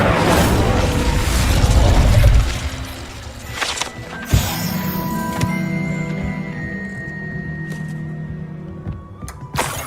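A fire spell cast in the video game Hogwarts Legacy bursts with a loud whooshing blast that fades into mechanical clicks and faint metallic tones, with no talk in the background.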